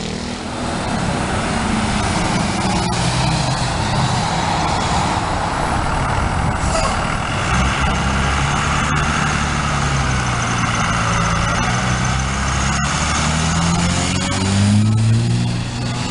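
A bus idles and pulls along a city street amid passing traffic, a loud continuous engine rumble with low droning tones that shift near the end.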